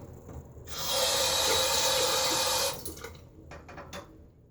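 A razor is rinsed under a running tap during a shave with a Schick Proline P-30 adjustable razor using a Feather AC blade: a steady rushing stream of water that lasts about two seconds, with quieter dripping and clinking before and after it.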